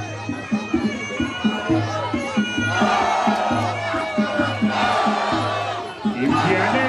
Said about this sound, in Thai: ทีมเชียร์แน่นปึ๊กเลย